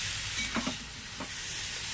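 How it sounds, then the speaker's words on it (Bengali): Cultivated mushrooms releasing water as they fry in a pan, giving a steady hissing sizzle up close, broken by a few soft stirring scrapes. "মাশরুমটা যতক্ষণে ভাজা হচ্ছে"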